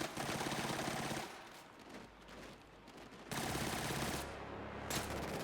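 Sniper and automatic gunfire in the video game Killzone Shadow Fall, loud and continuous rattling volleys that briefly thin out mid-way before resuming at full intensity.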